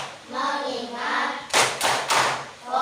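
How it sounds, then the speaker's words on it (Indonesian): A group of schoolchildren chants, then claps three times in quick rhythm as part of a focus routine, with the voices resuming at the end. "kita tepuk dulu lah biar semangat ya"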